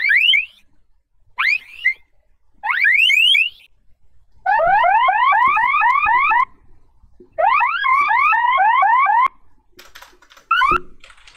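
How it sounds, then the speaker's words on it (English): A car alarm sounding in bursts of rapid warbling, chirping tones, loud and close, with short silent gaps between the cycles and no talking. "It sounds like a car alarm."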